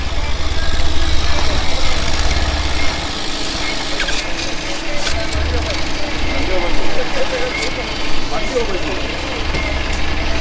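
A vehicle engine with a loud exhaust silencer idles, a steady low rumble with small surges. People talk and shout over it close by.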